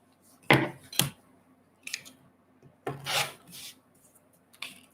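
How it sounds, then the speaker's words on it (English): Quilting fabric has its selvage trimmed, with a few short, crisp cutting and rubbing strokes, close and irregular, separated by quiet pauses. "I'm going to trim off the selvage"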